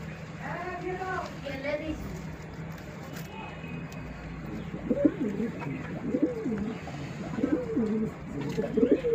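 Pigeons coo repeatedly at a pigeon sale, low throaty calls rising and falling throughout over a steady background murmur, with someone talking nearby.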